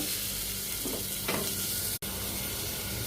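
Bay leaf, star anise, cinnamon and ginger sizzle and crackle softly in a hot pan as they roast, a quiet steady frying hiss with a brief stir scrape.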